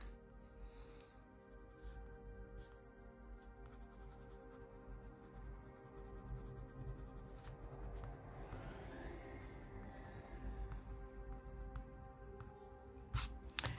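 Pencil shading leaf veins on smooth paper with a darker grey, a soft continuous scratching and rubbing of graphite, close and quiet, with no talk.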